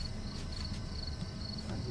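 Steady high-pitched chirping of crickets in a dark roadside scene from a game, faint and continuous over low background rumble, no voices.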